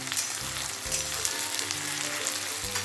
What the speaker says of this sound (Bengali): তার সঙ্গে একটা গোটা টমেটো দিয়ে দিয়েছি, সব একসাথে ভাজা ভাজা করব।